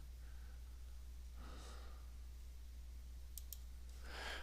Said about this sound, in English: Let's click here.